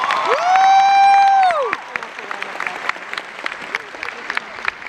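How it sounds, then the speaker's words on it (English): At a fan convention panel with Chris Hemsworth and Tom Hiddleston, a long sustained whooping cheer from the crowd rings out first, then gives way to lighter, scattered clapping that thins out toward the end. "Let's give him a round of applause."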